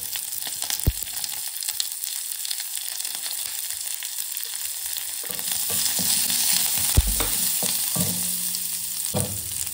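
Shallots, curry leaves and a pinch of asafoetida dropped into hot oil with urad dal, a crackling sizzle that flares up partway through, with a few sharp stirring clinks, close and alone.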